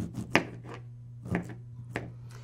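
A knife chops a lime on a cutting board for a cachaça caipirinha, giving three sharp, distinct cuts spaced about a second apart against a low steady hum in a quiet room.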